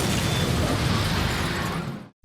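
A car blows up in a Detective Conan anime scene, a loud, sustained roaring blast with crackling debris that fills the whole moment and then cuts abruptly to silence.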